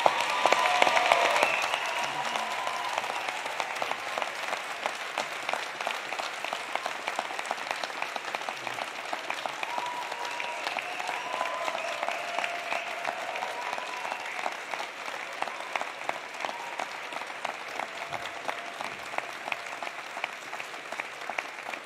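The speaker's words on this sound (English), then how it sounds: "give them a huge round of applause" An audience at a spring convocation ceremony for university arts and kinesiology graduates claps in sustained applause that starts loud and then holds steady, with a faint voice or tone running faintly underneath.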